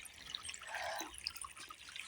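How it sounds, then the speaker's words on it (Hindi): Irrigation water running into a coriander field, a faint steady trickle and gurgle with light splashing detail, heard alone from close by. "धनिया के खेत की सिंचाई जो है वो कर रहे हैं"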